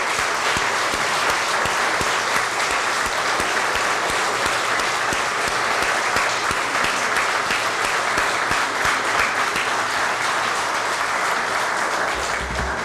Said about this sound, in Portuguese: aplaudisse bem forte a vida dele